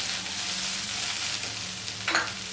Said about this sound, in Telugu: వీటన్నిటిని ఒక 1 మినిట్ వరకు ఫ్రై చేసుకోవాలి.